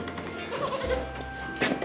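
A single short goat bleat sounds near the end, fairly close, over quiet outdoor background with faint rustling.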